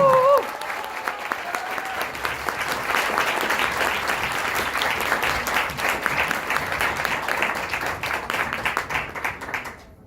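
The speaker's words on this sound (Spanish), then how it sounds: "Recibamos con un fuerte aplauso a Jason Shim Royal Basket." A large audience at a business event claps and cheers in sustained, dense applause that carries on loudly for several seconds before tapering off at the end.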